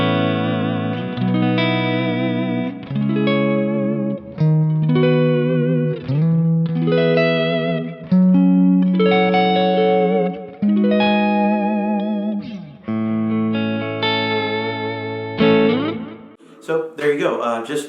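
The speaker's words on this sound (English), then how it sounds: "just kind of a typical boutique-y, high headroom clean sound" Clean electric guitar through a Kemper profiler using a Lonestar 1.3 profile, a high-headroom boutique clean tone, playing a series of chords and single notes in a steady phrase with light reverb, loud and alone.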